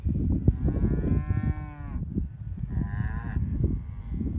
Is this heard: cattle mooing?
yes